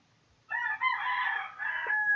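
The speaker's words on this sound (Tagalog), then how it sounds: "ang dami po naming manok" A rooster crows once, loud and close, a long strained call that holds for well over a second.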